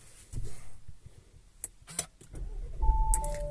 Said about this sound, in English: if I now try and start it